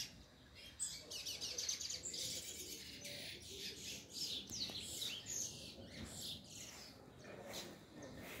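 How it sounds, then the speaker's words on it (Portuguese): Small bird chirping outdoors in a park setting, with repeated short high chirps scattered across the clip over a steady background of ambient noise; a person speaks faintly at moments. "o passarinho"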